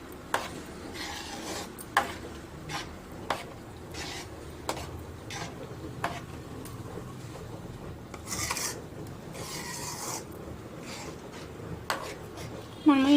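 Wheat rava stirred in melted ghee in a pan on the stove gives steady scraping and rasping, with sharp spatula taps against the metal every second or so, close and fairly quiet.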